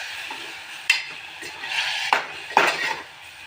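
Coriander is mixed into karal chutney in a pan, several sharp metallic spoon clinks and scrapes at uneven intervals, fairly close, with no speech.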